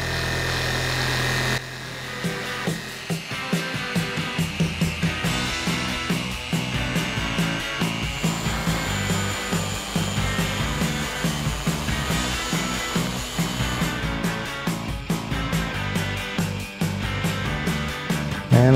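A car polisher with a foam pad buffs hazy, scratched clear coat, giving a loud continuous motor whine with a rhythmic pulsing hum. The tone steps up early on, as if the speed setting is raised, then runs steadily to the end.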